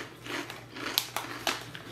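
Crunchy sea salt chips from a dollar-store snack haul are bitten and chewed up close, giving several sharp crisp crunches spaced irregularly over quiet background.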